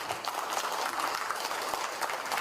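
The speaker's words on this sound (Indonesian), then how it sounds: "boleh tepuk tangan buat Bu Susi ini" An audience at an innovation forum applauds for a woman in charge of city parks, a brief, dense spatter of clapping from a crowd, fairly loud and continuous.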